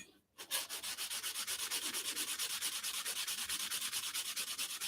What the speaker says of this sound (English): Now a little bit more hand sanding.